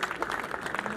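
Short burst of audience applause at a 1992 batch reunion gathering of T.I.T. alumni, steady overlapping claps with some voices mixed in, about one second long.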